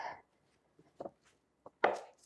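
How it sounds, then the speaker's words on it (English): A pastry blender cuts cold butter into apple pie pastry dough, giving a few short, dull chopping and scraping strokes spaced apart, with the last one loudest, and quiet gaps between them. "So you can use this pastry blender for a little bit with the water"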